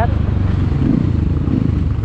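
A Crossfire RMZ250 dirt bike engine runs at a steady, throbbing idle, loud and close, for about two seconds.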